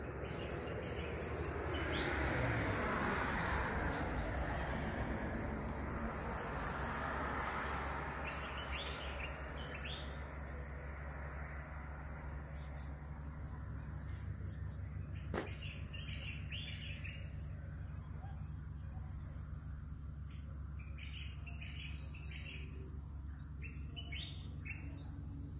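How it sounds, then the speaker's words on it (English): A constant high-pitched cricket chorus fills the air while scattered birds chirp and call in the distance; calm outdoor evening ambience at sunset in The Gambia. "This, the sound of the crickets and birds."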